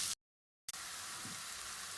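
Ginger garlic paste frying in a pan for a mutton dish, a steady soft sizzle after a brief silent gap, with faint stirring scrapes partway through.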